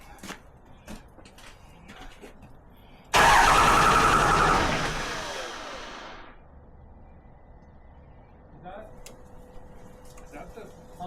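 A Cummins 5.9L diesel engine cranks loudly for about three seconds, a dense burst of starter and engine noise that fades out. Quieter handling sounds and voices come before and after it.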